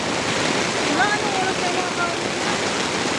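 Flood water rushes along a street in Valenzuela City as a steady, broad roar that stays constant and fairly loud, with a voice faintly present in the background.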